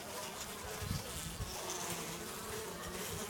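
Dense, continuous buzzing of Carpathian honeybees heard close up, a steady hum of many insects with no voices.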